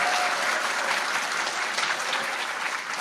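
Sustained audience applause fills a campaign rally hall at a Reform Party presidential election pledge event, a dense, steady clapping from a large crowd close by with no voices over it.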